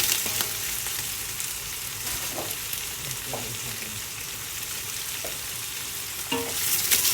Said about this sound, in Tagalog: Bigisa lang natin yung karne